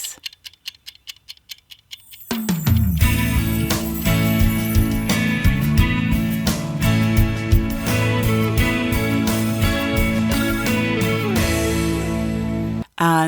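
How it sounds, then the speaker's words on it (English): A small kitchen timer from a hardware store ticks in a fast, even rhythm, clear and alone at first, then keeps going under loud music. "That was my actual kitchen little timer that I bought the other day at the hardware store"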